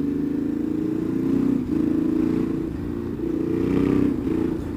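A Ducati Streetfighter motorcycle engine drones steadily at close range, swelling and easing through several rises in revs over a low rumble, with no talk.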